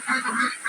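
Pekin ducks on a duck farm let out a short run of nasal honks up close, brief and steady, without any voices.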